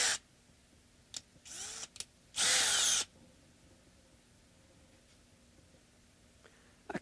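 Drill bit slowly enlarging a hole in a fabricated bridge saddle for an Epiphone Chet Atkins guitar: several short bursts of whirring drilling, the longest near the middle, close and fairly loud with quiet pauses between.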